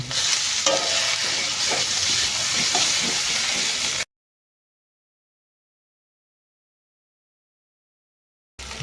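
Hot oil sizzles and crackles steadily in a pan during village-style chicken curry cooking, loud and continuous for about four seconds, then silence before a brief return at the end.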